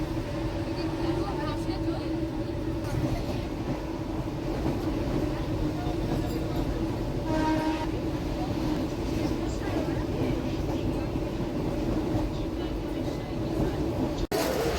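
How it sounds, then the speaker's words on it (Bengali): A Ranaghat local train running out of Gopalnagar, with steady low rumble and rolling rail noise throughout, a few louder clanks, and faint voices of passengers mixed into the carriage din. "গোপালনগর থেকে ট্রেন ছাড়লো রানাঘাট লোকাল"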